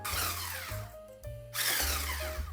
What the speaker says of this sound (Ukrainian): Будемо збивати блендером